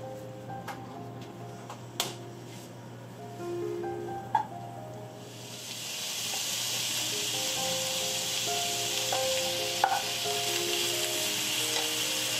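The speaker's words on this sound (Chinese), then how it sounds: "锅中倒入切好的猪五花肉，先将猪五花肉干锅煎香" Sliced pork belly dry-frying in a hot wok for twice-cooked pork, a steady loud sizzle that rises and fills the clip after a few seconds, with occasional clinks and stirring scrapes of a utensil against the pan.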